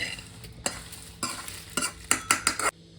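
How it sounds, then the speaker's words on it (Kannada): Dry red chillies being roasted and stirred in a pan for chutney powder, with a series of scraping, rustling strokes that grow quicker toward the end, close up with no talking. "ಇವಾಗ ನೋಡಿ ಇದೇ ಬಾಣಲಿಗೆ ನಾನು ಒಣಮೆಣ್ಸಿಕಾಯಿ ಹಾಕೋತಾ ಇದ್ದೀನಿ. ಒಣಮೆಣ್ಸಿಕಾಯಿ ಹಾಕ್ಕೊಂಡು ಇದನ್ನು ಚೆನ್ನಾಗಿ ಬಾರಿಸೋಣ."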